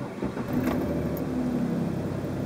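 A car engine starts close by and settles into a steady, even idle that runs throughout.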